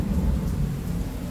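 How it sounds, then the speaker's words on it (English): Steady rain falls on the open top deck of a cruise ship near the outdoor pools, a continuous dense wash of noise with low rumbling, fairly soft and with no talking. "So this is the top deck and it's raining outside."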